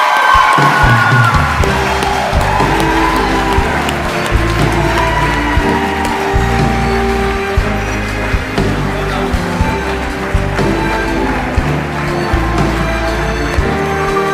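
An audience at an awards ceremony applauds and cheers for a Senior Australian of the Year honouree in Tasmania. Steady, dense clapping and crowd noise carry on over loud booming music with a heavy beat.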